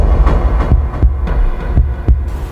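A steady thumping heartbeat with a low rhythmic pulse, repeating roughly every half second, loud and close over a dull hum, with no voices.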